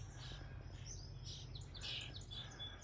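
Baby birds chirping in a nest in a neglected garden among roses, thin high cheeps in quick clusters, faint and somewhat distant over a low steady background hum.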